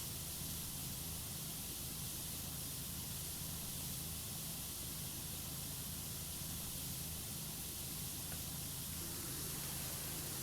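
A high-pressure sprayer with an adjustable nozzle gives off a steady, soft hiss of spray that continues unbroken throughout, close but quiet, with no speech.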